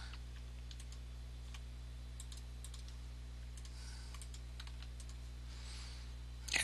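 Quiet bursts of typing on a computer keyboard, irregular clusters of clicks over a steady low electrical hum, with no talking.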